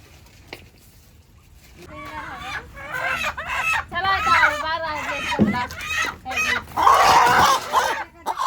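Country-breed chickens, including roosters, cluck and squawk close by, their calls mixed with people talking over them throughout.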